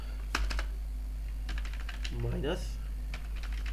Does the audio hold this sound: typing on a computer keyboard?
yes